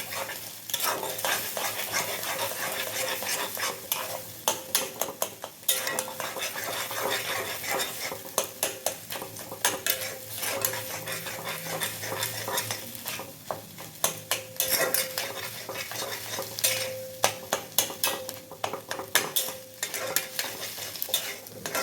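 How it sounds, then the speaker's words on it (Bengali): Beaten egg fries in a pan for egg tarka while it is stirred constantly. A spatula scrapes and clatters against the metal over an even crackling sizzle throughout. "এবার ফেটানো ডিমটা দিয়ে দিলাম। এভাবে ডিমটাকে নাড়তে হবে যাতে একসাথে জোড়া না লাগে।"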